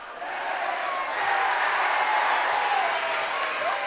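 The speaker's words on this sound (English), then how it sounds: "And the crowd loves it." Basketball crowd in a high school gym at a boys' section final, cheering and applauding loudly as a steady, dense roar that swells after a soft start and holds through to the end.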